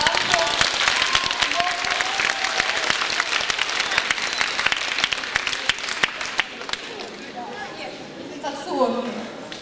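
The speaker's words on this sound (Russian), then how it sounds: "И хочу пожелать вам самых громких аплодисментов." Loud audience applause in a hall at a KVN comedy show semifinal in Rostov-on-Don, with dense clapping that fades after about six seconds into crowd chatter and voices.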